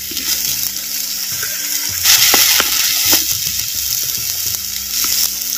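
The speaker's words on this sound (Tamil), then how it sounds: "சேர்த்த சின்ன வெங்காய விழுதுகளை அப்படியே எண்ணெயில் வதக்கு வதக்குன்னு வதக்குறான்" Small onion paste fries in hot oil, sizzling steadily up close with a bright crackle, and a few sharp stirring clinks and scrapes break through at intervals.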